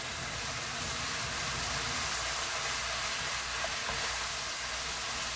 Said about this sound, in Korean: 잘 맛있게 바글바글 볶아줍니다.